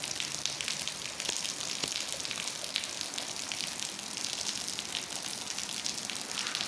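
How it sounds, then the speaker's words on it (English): Rain drips and patters outside in a steady, soft wash of fine drops, with occasional slightly louder individual drips, fairly faint and continuous with no voices. "It's raining. Do you hear it?"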